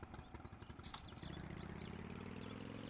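Lara's vehicle in Tomb Raider 3 revving its engine on the River Ganges level, a steady, loud droning hum that rises and settles into a sustained idle-like tone after a busy clattering start.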